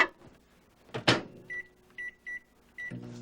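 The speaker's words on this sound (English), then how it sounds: "And that's going to go in the microwave" A microwave oven is set to cook for six minutes: a sharp clack, then several short, evenly spaced electronic beeps, and finally a low hum as it starts running, close and clear with no talking.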